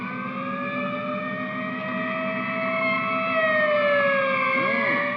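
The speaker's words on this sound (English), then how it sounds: "Police ambulance and everything." Several police and ambulance sirens overlap continuously, rising and falling in pitch, fairly loud as if the emergency vehicles are passing nearby, with no talking.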